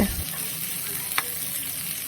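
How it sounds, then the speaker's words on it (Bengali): Sliced onions sizzle steadily in oil in a kadai, starting fish curry, with one brief stirring scrape midway and no voices. "পেঁয়াজগুলোকে হালকা ভেজে নেব।"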